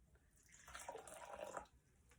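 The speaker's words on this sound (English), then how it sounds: "I'm going to pour the water in." Hot water poured from a microwaved cup into a mug over a hot chocolate packet, a short soft liquid splash swelling then tapering off, close and quiet.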